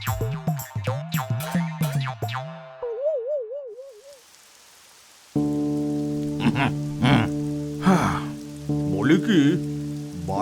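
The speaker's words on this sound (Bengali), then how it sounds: "বাইরে বৃষ্টিটা আবারও বেশ বাড়লো" Heavy rain pours outside in an animated story about a dam, a steady dense hiss that starts after a short silence. Bouncy cartoon tones come before it, and sustained musical notes play over the rain.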